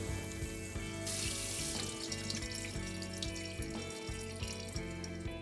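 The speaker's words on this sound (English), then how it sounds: "And shower the beans again." Tap water runs steadily over cooked, boiled-soft beans in a sieve for Japanese sweet bean paste, a continuous splashing wash with a sharper gush just after the first second, heard alone with music underneath.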